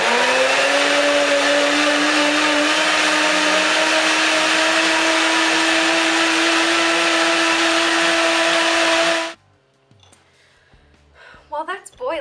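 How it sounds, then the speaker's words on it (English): A blender whirs loudly and steadily for about nine seconds, blending a lunch smoothie with a very thin disc of kombucha SCOBY, then stops abruptly, leaving faint kitchen clatter and rustling. "I took a very, very thin little disc of the Scoby and added it to my lunch smoothie."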